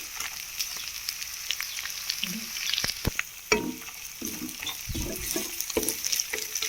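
Cashews fry in hot oil while bitter gourd curry cooks, a close crackling sizzle with scattered spatula scrapes and taps, growing busier toward the end, no voices.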